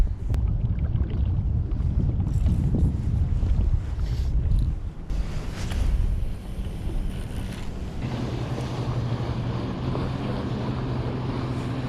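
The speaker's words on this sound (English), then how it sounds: "So windy." Strong, steady wind blows on a river while fishing, buffeting the microphone with a continuous low roar and rush, and water lapping runs beneath it throughout.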